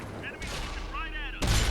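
A tank cannon fires in World of Tanks with a sudden loud, sharp blast near the end, over a steady in-game engine and battle rumble.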